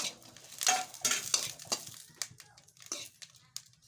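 Chillies being roasted in a pan for chutney, with a metal spoon scraping and clinking against the pan in irregular bursts over a low hum, close and moderately quiet.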